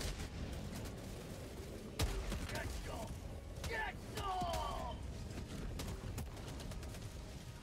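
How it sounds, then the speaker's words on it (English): Explosions and gunfire boom in Helldivers 2, with a sharp blast near the start and scattered bursts after it under ongoing combat noise and occasional voices. "I don't think that was one of my explosions."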